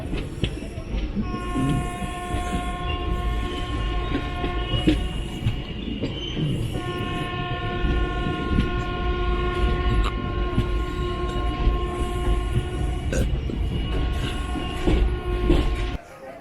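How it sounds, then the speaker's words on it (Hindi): Lucknow Barauni Express running between Jarwal and Gonda stations, heard from inside: a loud continuous rumble with rhythmic wheel clatter and sustained horn blasts, faint voices in the background. "ट्रेन अब जरवाल स्टेशन से चल चुकी है।"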